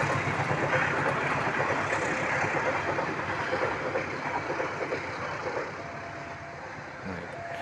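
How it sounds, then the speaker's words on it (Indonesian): A freight train rolls past with a continuous broad rumble and rattle at moderate distance, fading slightly toward the end. "Ini kereta lewat."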